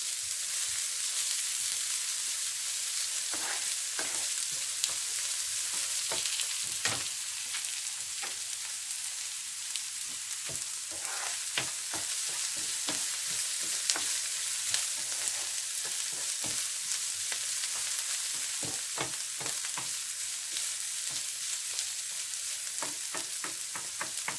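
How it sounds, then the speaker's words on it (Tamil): Cabbage and urad dal sauté in a hot pan with a steady, hissing sizzle, broken by frequent sharp crackles and spatula scrapes over about twenty-four seconds. "கொஞ்ச நேரம் வதக்குவோம்."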